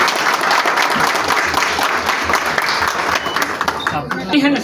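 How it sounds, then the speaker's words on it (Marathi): Sustained loud applause from a crowd at a jewellery showroom inauguration, dense clapping over several seconds that thins out at the end, with voices mixed in. "जोरदार टाळ्यांच्या गजरात"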